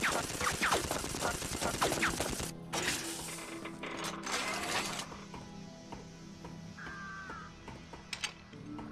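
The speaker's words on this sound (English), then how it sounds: "this standard assault rifle that you get" Standard assault rifle from Unreal 2: The Awakening, a blue-flame weapon, fired in loud rapid automatic bursts, a long one then a shorter one, before quieter game ambience.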